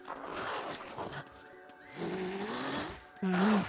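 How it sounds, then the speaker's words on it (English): Creature growling in a pond-lab game, low rough voiced rumbles with a pitched vocal snarl near the end, close and fairly loud amid game noise. "Oh, he's growling."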